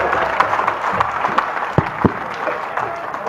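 An audience at a Hindi comedy poetry gathering (hasya kavi sammelan) claps, a short patter of mixed applause with a few sharper individual claps standing out over crowd murmur.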